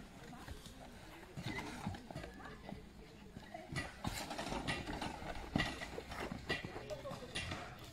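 Horse hooves clop at a medieval castle construction site, a faint, uneven clatter under people talking and general outdoor bustle.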